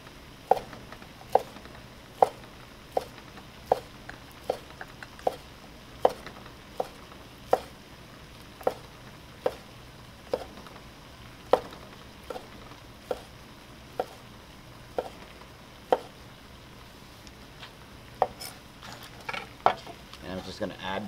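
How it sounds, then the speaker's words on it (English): A knife chops natural chicken sausages into little wheels on a cutting board, about two dozen crisp, evenly spaced knocks over a faint sizzling background. "I'm gonna chop our sausages up. I'm actually just gonna cut these into little wheels."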